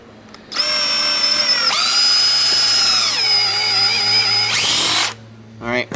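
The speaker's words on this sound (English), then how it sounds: "now we can make a couple holes in it, which we'll be putting screws through" A power drill fitted with a tungsten carbide conical step bit bores holes, spinning up to a loud, high steady whine that dips in pitch as the bit bites, then winds down, close up.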